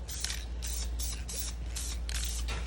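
A spray can hisses onto vinyl in short bursts, with about six or seven sprays separated by brief pauses, close and loud over a low hum.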